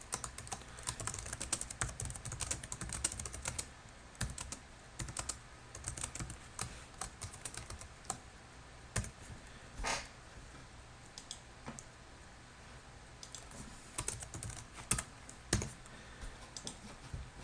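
Code being typed on a computer keyboard, with bursts of rapid, light key clicks separated by brief pauses, close and clear against a quiet room.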